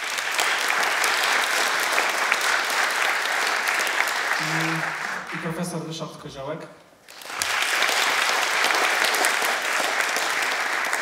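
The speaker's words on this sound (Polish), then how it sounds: "gorące brawa." Warm applause from a lecture audience greeting guests, loud and sustained, broken midway by a voice announcing a professor's name before the clapping resumes strongly.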